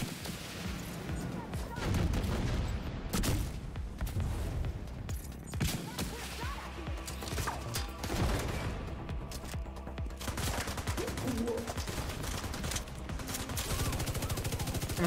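Sustained LMG fire in The Division 2: Warlords of New York, loud, dense bursts rolling continuously through the whole stretch with brief gaps, while a player talks over it.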